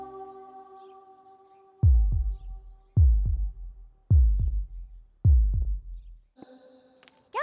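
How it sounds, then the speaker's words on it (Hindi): Heartbeat sound effect in a romantic action film, four loud, deep double thumps spaced about a second apart over a soft sustained musical hum, ending in a brief shimmer. "अगर ये तुम्हारे पास रहेगी तो मेरी धड़कन तुम्हें सुनाई देगी।"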